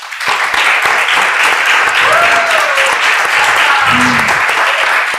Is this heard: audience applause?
yes